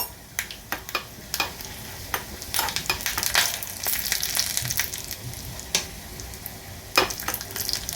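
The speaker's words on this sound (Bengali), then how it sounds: "দিয়ে দিচ্ছি উড়দ ডাল এগুলোকে একটুখানি ভেজে নেব" Chana dal and urad dal frying in a pan with black mustard seeds, a close crackling sizzle with many sharp pops and irregular stirring scrapes throughout.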